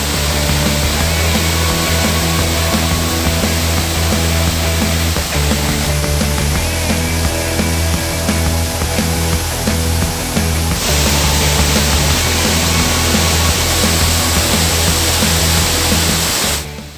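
The Baruttung Gollae waterfall roars loud and close as a dense, unbroken rush of falling water, its intensity shifting slightly partway through.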